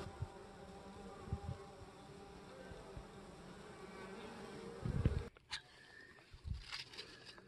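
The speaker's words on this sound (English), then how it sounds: "Checking on bees." Bees buzz quietly around their hive at the edge of a garden, a faint, wavering drone with a few nearer passes rising briefly, ending with some soft handling noises.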